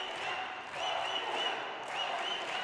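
Spectators applauding at a professional racquetball singles final, a faint, distant patter of clapping that swells slightly midway, with a thin tonal hum underneath.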